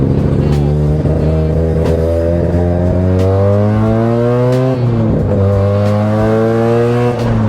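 A Mazda 2 fitted with a 13B PP-port rotary engine and an MR2 gearbox revs loudly and close by, its raspy drone climbing and dropping repeatedly without a break.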